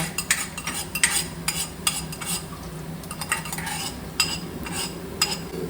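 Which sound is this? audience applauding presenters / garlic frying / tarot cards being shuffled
garlic frying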